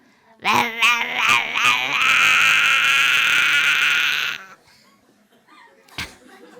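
A human voice mimics loud modern cicadas with a harsh, strained, buzzing drone that opens in choppy bursts, then holds steadily for a few seconds before cutting off, followed by quiet.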